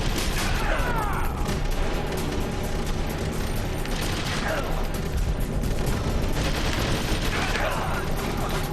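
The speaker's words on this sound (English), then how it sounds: "Fire that machine gun with the weapon." A machine gun fires in Metal Gear Solid: The Twin Snakes in dense, continuous bursts. Combat noise and impacts come with it, and the firing stays loud and close for the whole stretch.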